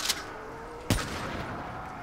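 Sniper rifle gunfire in a zombie video game: two sharp cracks about a second apart, the second heavier and booming, fading into a faint background.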